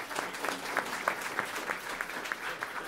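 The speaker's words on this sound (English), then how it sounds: "Let's give our panel a round of applause." Audience applause for a discussion panel, a fairly faint, steady patter of many hands clapping at an even rhythm for a few seconds.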